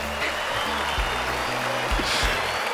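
A crowd claps and cheers steadily to welcome a singer onto a show, a dense wash of applause that runs the whole moment over a low, thumping musical beat.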